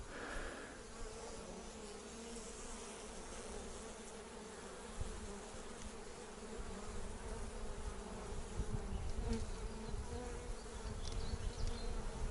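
A dense, steady buzzing of a large bee swarm up close as it is shaken into a makeshift hive, a continuous droning hum that grows slightly louder toward the end.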